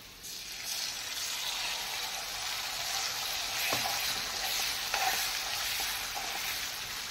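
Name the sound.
marinated liver (kaleji) frying in oil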